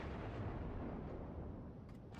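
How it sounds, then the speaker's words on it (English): Heavy naval gunfire from the battleship Wyoming in World of Warships, a dense continuous rumble of shelling and blasts filling the low end throughout, fairly steady with no voices. "But resuming shelling on the Wyoming."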